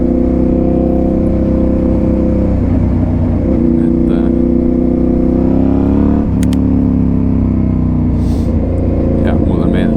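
A Suzuki SV V-twin motorcycle engine runs loud and close, a deep throbbing idle that swells into revs with a pitch sweep near the middle, with someone talking over it.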